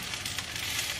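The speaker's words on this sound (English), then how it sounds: "So now adding curry paste." Curry paste hitting a hot, overfilled pan and sizzling in a steady, close, even hiss with a few brief louder crackles, no voices over it.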